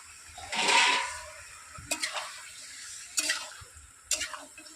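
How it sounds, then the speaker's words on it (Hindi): Onions go into a pot of chicken on a clay stove, giving a brief loud sizzle followed by several short stirring scrapes and crackles of frying. "ये प्याज इसमें डाल देते हैं।"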